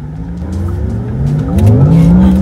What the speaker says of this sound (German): Elektrosportsound.